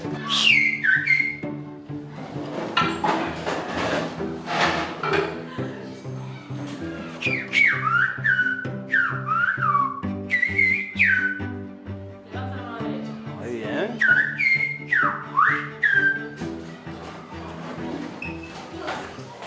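Several people whistle Silbo Gomero, a whistled language, in sliding, rising and falling tones that mimic speech, alternating with brief spoken Spanish words, during a whistling class, over a low background hum.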